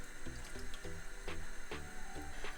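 Water pouring from a tap into a cooking pan, a steady splashing flow with rising, bubbly tonal gurgles as the level climbs, close and moderately quiet.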